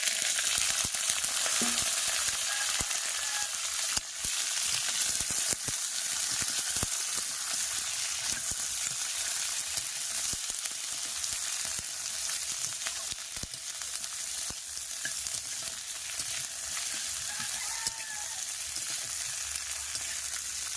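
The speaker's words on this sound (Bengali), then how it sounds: "যখন রসুন থেকে একটা গন্ধ বেরোবে সুন্দর তখন আমি এর ভেতরে এক এক করে সিমগুলো সব দিয়ে দেবো" Flat beans sizzle steadily in hot oil with fried garlic for a lentil dal, a dense, continuous crackling hiss that stays close and loud throughout, with no talking.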